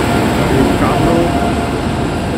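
A Kamrup Express train running on the line between NJP and Nabadwip Dham, giving a steady, loud rumble of rolling wagons that holds unbroken throughout.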